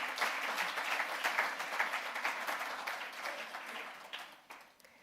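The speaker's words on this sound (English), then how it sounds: "can we have another round of applause for Professor Lenkabula?" Applause for a speaker at a memorial lecture: a crowd claps steadily and fairly quietly for several seconds, then the clapping thins out and fades near the end.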